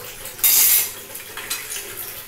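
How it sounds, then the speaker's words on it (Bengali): Papad frying in hot oil, a loud sudden burst of bubbling sizzle as it hits the pan, fading to a lower crackle with a couple of light utensil clinks, close up and without speech. "পাঁপড়টাকে আমি ভেজে নিচ্ছি"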